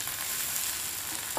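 Fried potato and poha are tipped into a hot pan, giving a dense, continuous sizzle that stays loud and even for the whole moment, with a small knock near the end.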